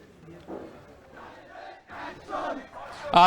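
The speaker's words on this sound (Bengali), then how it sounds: "নারীর প্রতি সহিংসতা বন্ধ ও ধর্ষণের দ্রুত বিচার দাবিতে রংপুর কারমাইকেল বিশ্ববিদ্যালয়ে বিক্ষোভ চলছে" Student crowd protesting at Carmichael College in Rangpur, chanting in rising, overlapping bursts, loud and fairly close, swelling toward the end.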